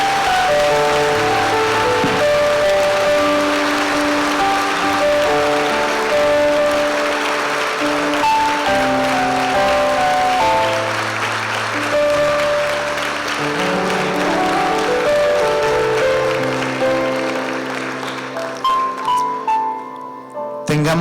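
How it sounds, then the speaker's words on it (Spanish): A church congregation claps during a worship service, the applause blending with loud instrumental music that plays throughout. "Dale un aplauso a Jesús."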